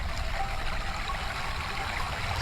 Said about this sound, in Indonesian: Saya baru tahu di sini ada sungai juga.